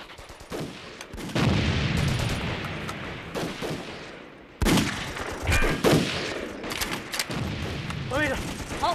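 Sniper rifle and machine-gun fire in a wartime battle scene, sharp loud shots and bursts cracking across a busy background of combat noise, with voices speaking between them.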